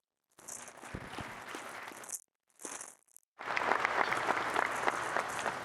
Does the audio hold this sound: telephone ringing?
no